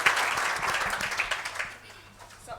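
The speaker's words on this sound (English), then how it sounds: "let's give our panel members a round of applause" Audience applause for panel members at a Wits Business School post-SONA debate, a burst of clapping from the crowd that thins out toward the end, with some voices mixed in.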